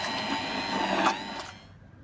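A Bamix hand blender whirs through cooked fruit for old-fashioned jam with a soft, steady motor hum for about a second and a half before cutting off into quiet.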